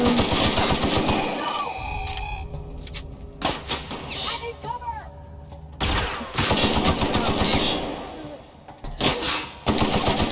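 Gunfire in the video game The Outer Worlds, rapid bursts of automatic shots and single cracks repeating loudly throughout, with brief lulls between volleys.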